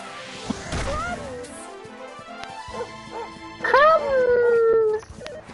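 A dog in the Dragon Quest 11 video game howls and whimpers in long rising-then-falling tones over busy game music and battle hits, with a voice talking over the action.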